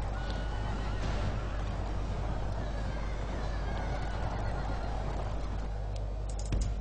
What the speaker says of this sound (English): Oh, there go their horses.